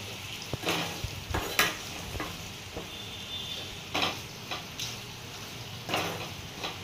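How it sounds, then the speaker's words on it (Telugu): Chicken frying in a pan with garam masala and other spices for a gongura gravy curry, with a steady close sizzle and intermittent scraping stirs and utensil clicks against the pan, no talking. "వేసేసుకొని 5-10 నిమిషాలు ఫ్రై చేసుకుందాం."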